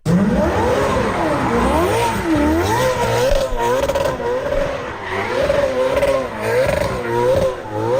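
Engine note of a Ferrari sports car revving hard and rising and falling in pitch through repeated gear changes, loud and continuous, with faint tire noise.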